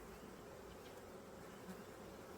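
Honey bees from a package colony that has swarmed buzz steadily and softly over a frame lifted from a Ukrainian hive, a continuous even drone with no voices.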